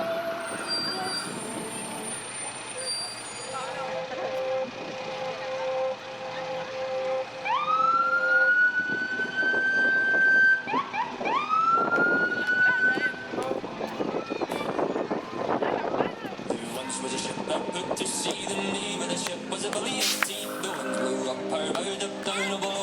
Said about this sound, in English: And they have sirens too.